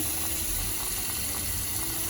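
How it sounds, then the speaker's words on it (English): Tap water runs steadily into a bowl to rinse chunks of pumpkin, a continuous faint splashing stream with no talking. "Now in my bowl, I'm just going to let the water run"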